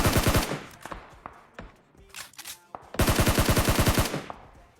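Rapid bursts of gunfire from a country pistol, a katta, in PUBG Mobile, two loud rattling volleys with scattered single shots and clicks in between.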